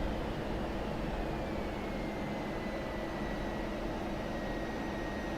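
F-16C jet engine spooling down after the throttle closes in DCS, a steady, faint whooshing roar with a slowly falling whine, no voices.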